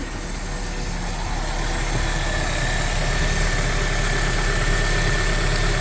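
A Honda Civic EF engine idles after timing belt work, giving a steady close-up hum with a faint mechanical rattle, even and unbroken throughout.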